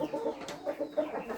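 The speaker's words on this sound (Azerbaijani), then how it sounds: "Toyuqların biraz qorxdular bu arada." Chickens in a coop clucking nervously as a fire is lit nearby, several soft repeated clucks close together at a moderate level, with no talking over them.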